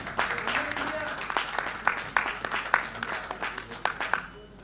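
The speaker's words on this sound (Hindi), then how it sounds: "जोरदार तालियां" A crowd at a political rally claps loudly in a dense, continuous burst with sharp individual claps standing out, and a voice is faintly heard beneath.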